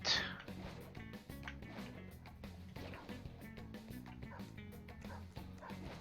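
A dog barks in Persona 5 Royal, an Orthrus enemy giving a few yips and barks over quiet game music and ambience.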